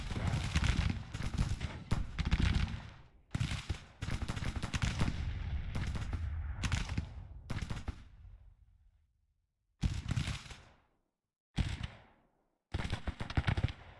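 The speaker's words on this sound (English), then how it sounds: "We are pummeling them with our artillery up here." Artillery fire booms in Grand Tactician: The Civil War video game as a series of loud, heavy bursts with rumbling decays, separated by brief silences and stopping and restarting several times.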